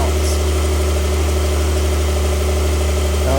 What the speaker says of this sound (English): it's not too loud either with the exhaust valve closed